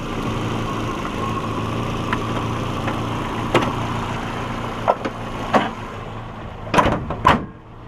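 A Toyota Hilux 4x4 idles with a steady low engine hum, close by, while a few sharp knocks and thuds of things being moved in a driveway punctuate it.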